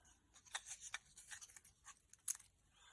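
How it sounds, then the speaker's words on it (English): Scissors trimming metallic ribbon for a tiled card, a quiet close series of crisp snipping cuts in an irregular rhythm, with no voice. "Use my other scissors to trim that there."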